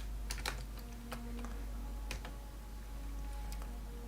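Computer keyboard typing while a random Dungeons & Dragons character is set up, with scattered quick keystrokes and small bursts spread through the clip, moderately faint over a steady low hum.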